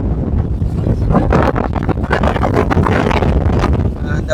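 Strong coastal wind roars during a sea surge at Colombuthurai in Jaffna, whipping coconut palms beside a flooded road; a loud, continuous buffeting rush with gusting swells fills the whole stretch.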